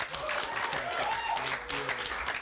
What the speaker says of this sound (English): You guys can give a round of applause for these guys.